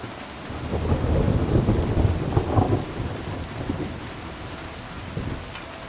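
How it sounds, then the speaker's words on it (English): Thunderstorm in the video game Kingdom Come: Deliverance II: a deep rolling thunder rumble swells and fades over steady heavy rain pattering on surfaces. "I love thunder and lightning."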